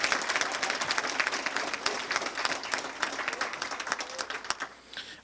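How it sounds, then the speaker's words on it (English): A coronation ball audience in Chicopee applauds the Colleen and her court: dense, steady clapping from a crowd that fills the room, easing off in the final second. "who I do believe deserve a round of applause for representing Chicopee so well"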